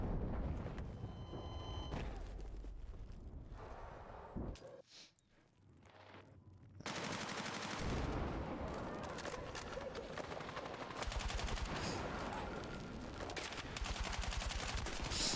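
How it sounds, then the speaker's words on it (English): Battlefield 6 game gunfire: sustained bursts of rapid shooting and explosions under a dense battle din, briefly dropping away mid-clip before heavy firing resumes. "he might have just been shooting into the fog"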